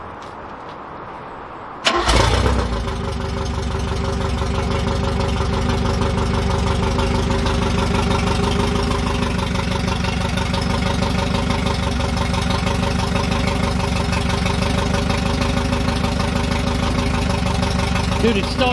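A 1969 Ford Capri's engine cranks and catches after about two seconds, then settles into a loud, steady, slightly rough idle close by.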